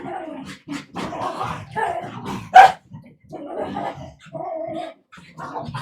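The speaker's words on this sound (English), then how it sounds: "These damn dogs." Several dogs bark and growl close by in a rapid, uneven string of loud barks and snarls with brief pauses between bursts.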